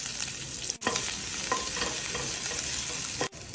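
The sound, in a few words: chopped garlic frying in ghee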